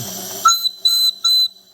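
Steam whistle on a 1910s-era steam plant engine, three short sharp shrill blasts in quick succession after a brief hiss, close and clear with no talk.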